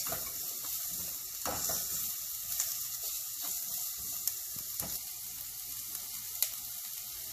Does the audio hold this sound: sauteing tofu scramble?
yes